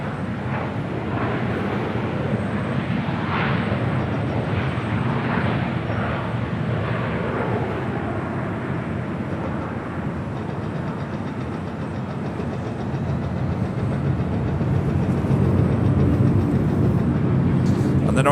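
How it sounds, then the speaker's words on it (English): A Delta Boeing 757-300 takes off at Los Angeles International Airport with a loud, broad jet roar that holds steady and swells near the end, while someone talks over it. "On the north side, we have Delta Airlines Flight 899 heading to Atlanta, Georgia at 757-300."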